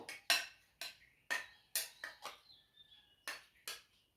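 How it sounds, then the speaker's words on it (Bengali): Strawberry chutney is stirred in a pan, ten sharp metallic clinks of a spoon against the pan in an uneven rhythm, close and fairly quiet, with no voices. "এবার আমি একটু নাড়িয়ে দেবো।"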